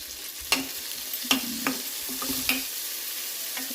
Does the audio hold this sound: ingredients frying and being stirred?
yes